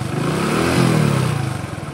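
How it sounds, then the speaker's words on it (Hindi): Motorcycle engine revving hard with the clutch held in, rising and holding a loud steady roar without moving off, close to the microphone, no talk. "रेस ही रेस दोगे तब भी बाइक आगे नहीं जाएगी देखो"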